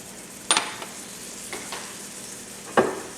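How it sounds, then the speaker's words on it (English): A spoon stirs chicken étouffée with diced tomatoes, Cajun seasoning and Worcestershire sauce in a pot, giving a few sharp scraping clinks against the pot over a faint simmer. "we're going to give this a good stir"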